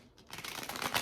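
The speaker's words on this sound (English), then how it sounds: "I'm going to be shuffling the tarot deck just to cleanse it" A tarot card deck being shuffled up close, a quick run of soft papery riffling that builds slightly in loudness over about a second, with no talking.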